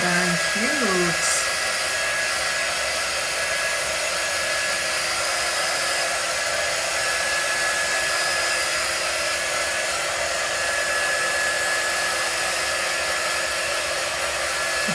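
A hair dryer blows steadily, drying chalk paint on a shirt: a continuous, even whirring hiss held close for the whole stretch, with a brief voice at the start.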